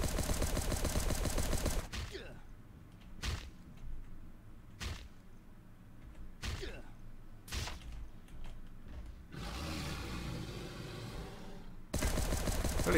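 Gunfire in the survival video game Last Day on Earth: Survival, heard as a handful of sharp, separate shots spaced a second or two apart, with louder stretches of noisy game sound at the start and end.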